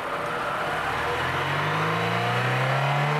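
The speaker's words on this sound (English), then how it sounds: "Smoothly increase the engine to 3000 RPM" A car engine climbs steadily in pitch as it is revved smoothly up to 3000 RPM, a continuous rising drone with no voices.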